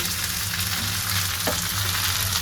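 Jute leaf greens frying in a pan, a steady close sizzle with a low hiss running throughout and one brief stir or scrape partway through.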